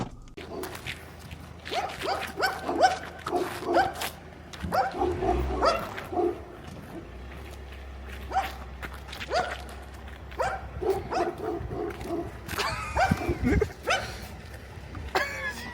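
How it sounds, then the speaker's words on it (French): Two large dogs barking in repeated short bursts at close range, with footsteps and a little background talk around them. "Il y a deux chiens."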